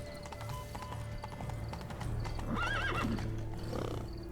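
Horse hooves clip-clop at a steady gallop in The Witcher 3: Blood and Wine, with a neigh rising partway through, fairly close, over a continuous low rumble of ambient game music.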